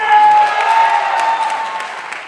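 An audience claps steadily, a dense wash of applause that slowly fades.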